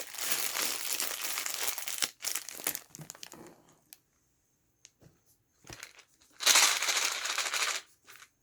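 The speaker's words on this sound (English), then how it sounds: "playing with a plastic bag." Plastic bag crinkling in loud, crackly bursts separated by quiet gaps, with a few faint isolated rustles and ticks in between; no voices.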